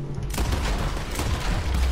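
Rapid gunfire from a Red Dead Redemption 2 shootout, a dense continuous barrage of overlapping shots and booms filling the whole stretch loudly with no pauses.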